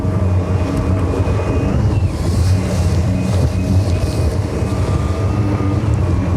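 An electric outboard motor pushes a boat hard under throttle. It gives a steady, loud drone with rushing water and heavy wind buffeting the microphone, and a faint tonal whine rides above it throughout.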